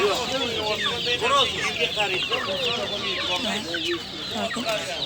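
Many chickens and chicks cluck and cheep continuously in a busy, crowded poultry market, with a few voices murmuring in the background.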